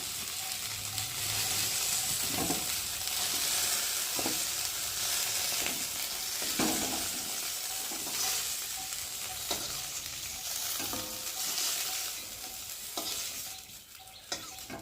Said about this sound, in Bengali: দেখো ভেন্ডিটা ভাজা ভাজা হয়ে গেছে, আর এখন আমি একে একে তুলে নেব।